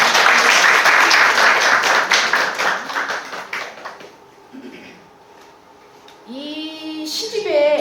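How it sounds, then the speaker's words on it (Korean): A seated audience at a Korean book-reading forum for real estate agents claps loudly for about four seconds. The applause then tapers off into near quiet, followed by light handling noises and a brief voice-like sound. "감사의 박수 한번 부탁드립니다"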